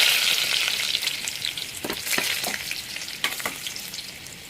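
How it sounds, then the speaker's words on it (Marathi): Cumin seeds and garlic sizzle in hot oil as tempering for hotel-style dal khichdi, a steady bright hiss broken by a few sharp stirring scrapes and clicks near the middle, with no talking. "तेल छान तापलेलं आहे, त्याच्यात आपण टाकणार आहोत भरपूर जिरं"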